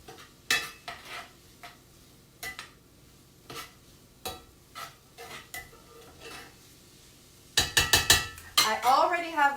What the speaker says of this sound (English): Okay, so we're going to give that a stir